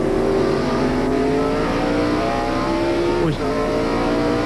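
NASCAR stock car from the 1996 Tyson Holly Farms 400 rolling slowly down pit road at about 35 mph, a steady close engine drone with harmonic tones and a brief dip near the end, under trackside ambience.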